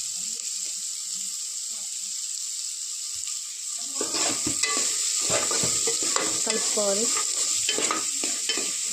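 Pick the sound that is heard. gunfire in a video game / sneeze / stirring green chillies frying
stirring green chillies frying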